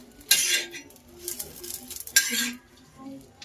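Steel plates and spoons clink in a home kitchen while pav bhaji is served, with two sharp bursts of metallic clatter and lighter scattered taps between them, close and without talk.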